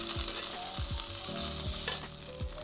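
Pork ribs pan-frying until golden before being braised with black sesame oil, a dense close sizzle with repeated sliding scrapes and clatters of the meat against the pan, no talking.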